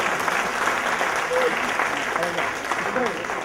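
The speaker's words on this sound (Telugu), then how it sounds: "గాంధీ గారికి గట్టిగా చప్పట్లు కొట్టండి." An audience at a stage event claps, steady applause continuing through the whole moment while a voice speaks over the crowd.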